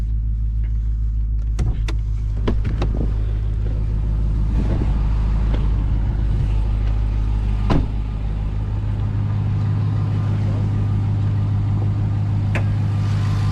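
A 2023 Ram TRX 1500's supercharged 6.2-liter Hemi V8 idles with a deep steady rumble, low and constant throughout, with a few sharp clicks and knocks scattered over it.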